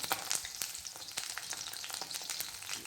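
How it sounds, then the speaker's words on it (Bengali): Lentil bori dumplings, a paste of ground lentils, chilli and salt, sizzle and crackle steadily in hot oil, with sharp pops scattered throughout, close and continuous with no talking. "নুন দিয়ে ফেটিয়ে গরম তেলে বড়ির আকারে ফেলে ভাজবো"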